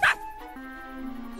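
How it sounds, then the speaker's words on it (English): A poodle in the 2012 animated film Frankenweenie lets out one sharp, loud yip followed by a short whimpering whine that trails off, close and alone without talk. "Look at her poodle."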